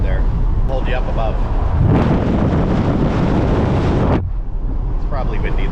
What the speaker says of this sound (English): It's probably windy though.